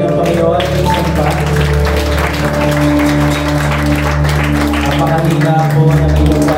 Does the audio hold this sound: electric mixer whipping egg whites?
no